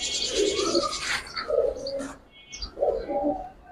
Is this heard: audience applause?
no